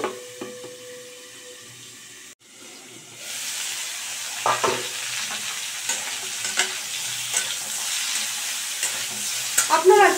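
Cauliflower frying in a pan, a continuous close sizzle broken by scattered clinks and scrapes of stirring, louder knocks near the end, no talking.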